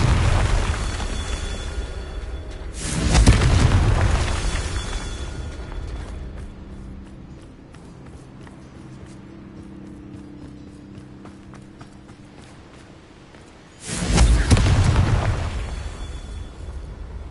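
Two booming bursts from the Confringo fire spell in the video game Hogwarts Legacy, about ten seconds apart, with a low game ambience between them.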